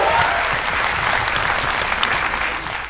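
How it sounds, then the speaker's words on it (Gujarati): Loud, sustained applause from a comedy show audience, dense clapping filling the room evenly before easing off slightly at the end. "તાળીઓ થઈ જાય એમના માટે"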